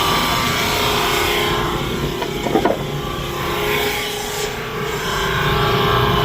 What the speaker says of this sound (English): we're basically using a thickness sander to mill them out